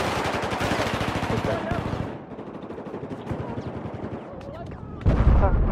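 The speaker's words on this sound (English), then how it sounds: "I'm getting shot." Battlefield 4 weapons fire in rapid repeated bursts, close and loud, easing off midway into scattered shots and then surging back with a heavy blast near the end; voices may murmur underneath.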